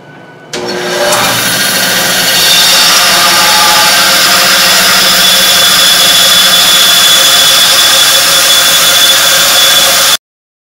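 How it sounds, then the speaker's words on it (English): A bandsaw fitted with a brand new blade cuts slowly through wood, a loud, steady whining hum that starts abruptly, runs unbroken for about ten seconds and then stops. "it's a good bandsaw, it's got a brand new blade on it"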